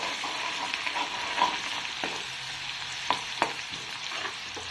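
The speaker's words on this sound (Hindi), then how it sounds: "प्याज को हल्के से भून लेना है" Onions fry lightly in a pan for a bottle gourd sabzi, with a steady, gentle sizzle broken by a few sharp clicks of the spoon stirring against the pan.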